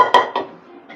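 Cooked mutton paya gets mixed into biryani in a pot, and a utensil knocks sharply against the metal twice in quick succession. A fainter clink follows near the end, then a short ringing decay.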